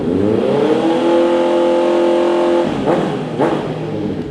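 Loud, close revving from a 2019 Honda CBR650R with an aftermarket exhaust: a sustained high rev that cuts off sharply, followed by two quick blips that climb and drop fast.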